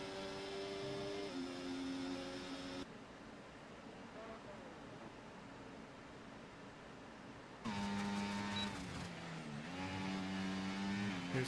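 Race cars on the Monza circuit in a racing video game produce droning, shifting engine tones that rise and fall with gear changes, then cut to a quieter stretch before loud engines return.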